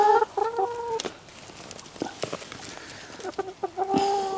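Free-range laying hens cluck inside a chicken coop, several birds giving drawn-out calls at the start and end with quieter rustling and scattered clucks between, close and clear.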